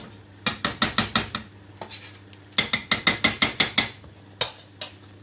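A stovetop knob turned down to lower the heat under a cauliflower and potato curry, giving two bursts of rapid, crisp ratcheting clicks close by, with no talking.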